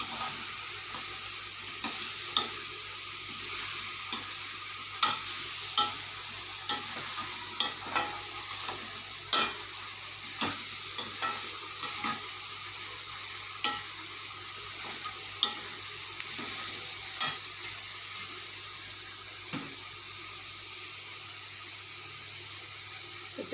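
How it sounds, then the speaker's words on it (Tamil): Mushrooms simmering with salt in a pan for a mushroom omelette gravy, a steady close sizzle with repeated scraping stirs at an irregular beat, no voices. "தேவையான அளவு உப்பு போட்டுட்டு காளானை நல்லா வேக வச்சுக்கணும்"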